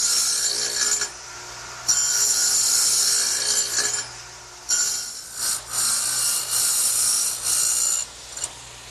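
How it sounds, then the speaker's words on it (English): A radial arm saw fitted with a dado blade plows wide grooves in workbench lumber, several loud passes separated by short gaps, close and harsh with a steady hum underneath, and no talking. "I've set the radial arm up with a dado cutting blade"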